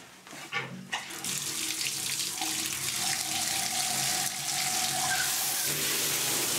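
Tap water runs steadily under strong pressure from a pump and pressurized holding tank at a house in rural Jamaica, a continuous close gushing flow that holds for several seconds.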